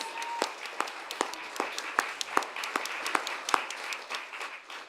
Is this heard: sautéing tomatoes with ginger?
no